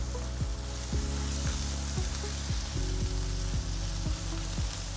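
Mushrooms and chives browning in a pan with a steady, close sizzle and a few soft utensil clicks, no voices.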